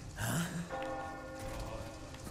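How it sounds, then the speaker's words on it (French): Small bells ringing in Resident Evil 4 Remake, several sustained tonal chimes layered together and lingering after a brief vocal sound at the start, moderately loud within game ambience. "Les petites cloches qui sonnent!"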